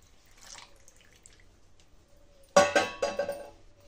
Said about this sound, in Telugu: ఇలా షుగర్ సిరప్ని అంతా వేసుకోవాలండి